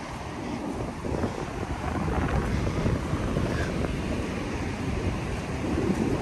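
Ocean waves and strong wind during a Nor'easter storm, a steady broad roar of surf with wind buffeting the microphone throughout, loud and continuous without a break.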